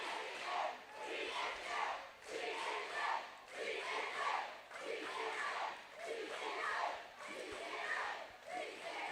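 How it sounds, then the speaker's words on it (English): A full crowd chants in unison at a game in the South Hall of the Ranch Events Complex in Loveland, Colorado, the rhythmic chant repeating in steady swells, loud and reverberant across the hall. "An electric and full crowd here just chanting DCM."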